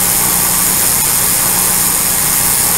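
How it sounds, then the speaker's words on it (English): Milling machine running a carbide fly cutter through a 100-thousandths-deep cut, producing a loud, steady, dense mechanical roar that stays constant throughout, with no talk. "Let this carbide cutter eat."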